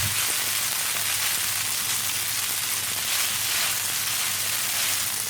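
Spaghetti for carbonara sizzling in a frying pan, a steady dense crackle and hiss at moderate level, close and continuous without pauses.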